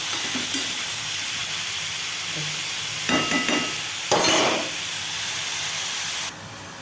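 Bottle gourd frying with chili in a pan gives off a constant low hiss and sizzle, broken by a few louder scraping bursts as it is stirred. No one speaks.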